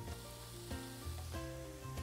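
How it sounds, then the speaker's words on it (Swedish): Potatoes fry in a pan with a steady, close sizzle, joined by intermittent scraping and stirring knocks, with no talking over it. "Potatisen ska vi börja steka nu."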